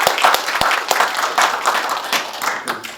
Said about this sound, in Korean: 뜨거운 박수 한번 먼저 드리고 갈까요?